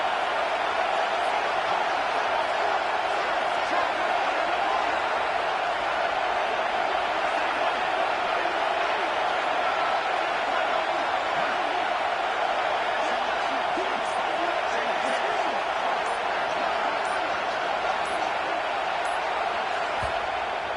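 Football stadium crowd at a Texas at South Carolina game, a steady dense roar of many voices rising throughout, loud and continuous.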